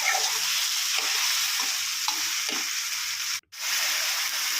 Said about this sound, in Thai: ขยี้ขยี้ให้ กะปิเขาละลาย